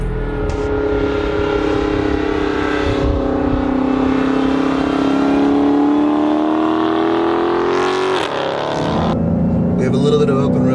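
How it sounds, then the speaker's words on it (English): A 2015 Dodge Charger SRT Hellcat pulls hard up the Pikes Peak road, its supercharger whining over a loud, sustained engine drone that rises in pitch before a gear change near the end. "I love the whine of that supercharger."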